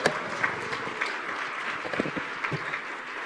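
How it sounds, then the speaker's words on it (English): Audience applause for Lucy and the panelists at the close of a women-in-leadership session, a steady wash of many hands clapping at moderate level with a few sharper claps standing out, no talk over it. "I think we should give Lucy and the panelists another round of applause."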